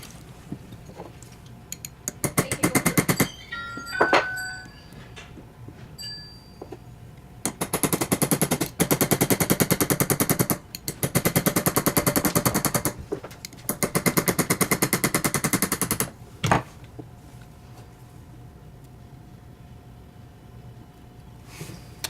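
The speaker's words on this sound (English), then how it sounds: "I'm going to use the piece of steel, and I'm using this hammer, this planishing hammer." Rapid, continuous planishing hammer tapping on steel while setting a diamond, in long bursts, fast and rattling like a machine, close and loud, with brief pauses between runs.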